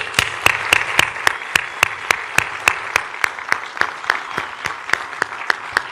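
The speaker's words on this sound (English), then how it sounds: "if we can get a round of applause for Mr." Sparse, evenly spaced hand claps ring out sharply for a speaker, each one distinct and close, like a small group or a single person clapping slowly in a steady rhythm.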